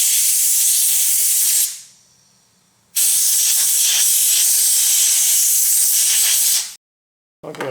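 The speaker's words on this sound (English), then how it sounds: "It's okay to use compressed air to blow out the bearings," Compressed air blasting out bearings from a drive roll during a Yates American J180 restoration, two loud, close, sustained hissing bursts with a short gap between them and a brief third burst at the end.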